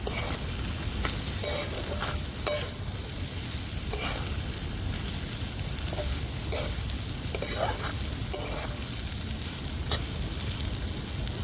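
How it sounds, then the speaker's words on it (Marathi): Wild vine greens with finely chopped raw mango pieces are stir-fried in a pan, a continuous close sizzle with repeated spatula scrapes and clinks throughout. "आता परतून घेते मी भाजी"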